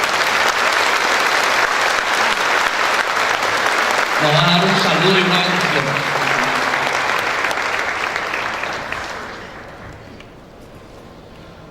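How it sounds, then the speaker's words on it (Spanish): Crowd applause greeting an arriving bishop at a diocesan student gathering, loud steady clapping that fades out near the end, with someone speaking briefly over it. "Un aplauso a nuestro querido obispo."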